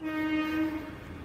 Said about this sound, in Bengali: আপনারা নিশ্চয়ই ট্রেনের আওয়াজও শুনতে পাচ্ছেন।